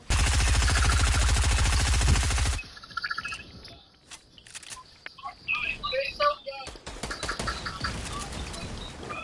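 Video game gunfire: a dense, loud burst of rapid automatic shots for a couple of seconds, then scattered lighter game sounds and chirps, with a player talking.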